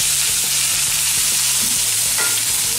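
Cauliflower sizzles loudly in hot oil for a stuffed paratha filling, a constant close frying hiss broken by regular scraping taps of a spoon stirring the pan.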